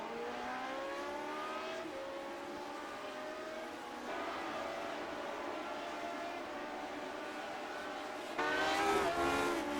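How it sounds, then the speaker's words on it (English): Race cars from a retro series lap Barber Motorsports Park, engines whining through rising and falling pitch sweeps as they pass at middle distance, with a louder car surging close near the end. "Watching Sage Karam, who has been the dominant car in this race."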